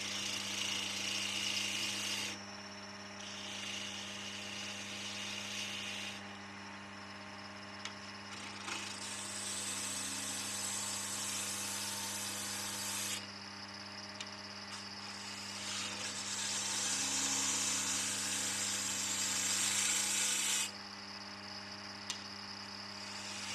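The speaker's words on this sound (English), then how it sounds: "A spindle gouge makes light work of this." A spindle gouge hollows out a piece of wood spinning on a lathe, a sustained hissing cut over the steady motor hum, rising and dropping in sections as the tool is pressed in and lifted away.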